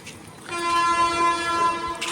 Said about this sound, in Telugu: మనకి ఇప్పుడక్కడ ట్రైన్ వస్తుంది